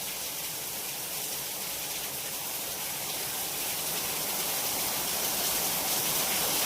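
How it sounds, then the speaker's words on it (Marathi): Heavy rain pours onto a courtyard in a dense, unbroken hiss, loud and even from start to finish, with no voices. "आमच्याकडे पाऊस चाललाय"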